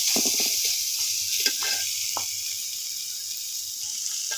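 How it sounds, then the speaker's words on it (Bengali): Taki fish frying in hot oil with chopped garlic and onion gives a steady bright sizzle throughout, with a few faint knocks of a utensil early on and no voices. "তো এখানে এখন এটাকে আমরা শুধু ভাজতেছি"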